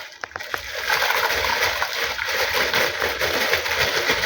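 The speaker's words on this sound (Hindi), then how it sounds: "ये हमने जो गुड़ का चूरा बना रखा है इसे में पानी में हमने डाल दिया है" Powdered jaggery is tipped into water to start a culture, giving a few quick close clinks, then a sustained loud splashing and sloshing with no talk.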